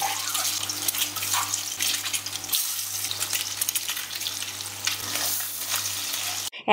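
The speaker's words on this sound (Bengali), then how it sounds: "তারপর ডিমগুলোকে উল্টে পাল্টে ভেজে তুলে নেব।" Boiled eggs being turned over and fried in oil give a strong, continuous sizzle with faint stirring and scraping, loud and close throughout, and a brief dip partway.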